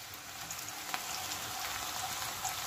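Onions fry in a pan for a mixed vegetable dish, giving a steady, close sizzle with soft crackles and an occasional pop.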